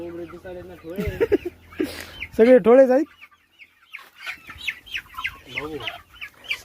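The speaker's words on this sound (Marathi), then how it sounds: "तो कोंबड्या उचलणार आहे हातात आणि घेऊन जाणार आहे" Free-range village chickens on a small Marathi poultry farm cluck and squawk in loud, close bursts as they are handled, mixed with someone talking nearby.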